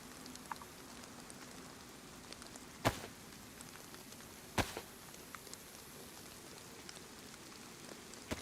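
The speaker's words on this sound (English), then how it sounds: "Oh, now it's raining." Steady rain falls in DayZ on the Anastara map as a soft, even hiss, with two sharp brief knocks standing out against the quiet downpour.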